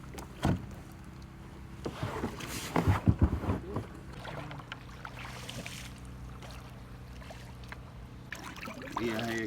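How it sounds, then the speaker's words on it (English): A kayak paddles through hurricane floodwater covering a road after Hurricane Milton, with soft sloshing paddle strokes and water swirls heard nearby at a low level. "We are here kayaking on our road."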